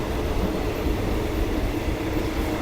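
The inside of a passenger train riding from Pattaya to Bangkok, Thailand, gives a steady loud rumble and rolling roar that holds the whole time with no clear clacks; there is no talk.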